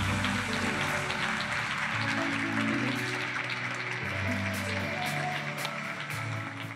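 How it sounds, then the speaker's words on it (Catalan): Applause from an audience at an education conference in Barcelona, a steady clatter of clapping lasting throughout, with low music or crowd murmur beneath it and no clear speech. "Francesc, sisplau, un fort aplaudiment pel Francesc."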